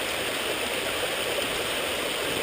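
A small creek runs beside a sandbar, giving a continuous, close, even rush of flowing water with no voices.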